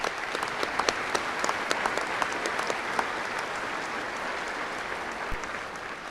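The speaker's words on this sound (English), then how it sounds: "I would like to give a round of applause for the staff and administration at Beatrice High School." A large audience at the Beatrice High School 2025 commencement claps steadily for the school staff and administration, a dense, even wash of applause that holds for the whole stretch without talk.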